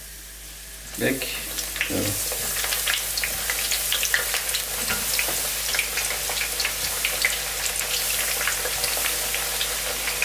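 Aubergine slices frying in a pan while being browned on both sides for a lasagne, a steady crackling sizzle that starts after about a second and runs continuously close by, with brief talk over it.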